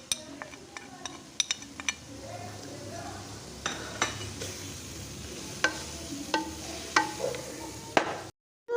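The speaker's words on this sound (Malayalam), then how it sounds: "ഇതിലേക്ക് ചിക്കൻ ഫ്രൈ ചെയ്തത് ഇട്ട് കൊടുക്കുക. ഇളക്കി കൊടുക്കുക." Fried chicken and ground pepper being stirred into noodles in a pan, soft sizzling under repeated metallic clinks and scrapes of a utensil, briefly cutting off near the end.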